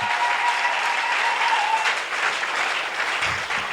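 A church congregation applauds for Jesus during a worship service, a thick, steady wash of clapping from many hands that holds strong and close for the whole stretch.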